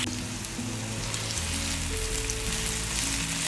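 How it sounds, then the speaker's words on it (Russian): Red sweet bell pepper fries in hot vegetable oil in a heated pan, a steady dense sizzle and crackle close by that carries on without pause, with a low musical hum in the background. "Разогреваем сковороду, добавляем растительное масло, отправляем сюда красный перец"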